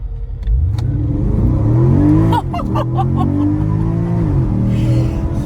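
A Porsche Panamera GTS engine in Sport Plus revs hard and climbs in pitch, a loud throaty roar heard from inside the cabin with windows slightly open, with a brief burble midway.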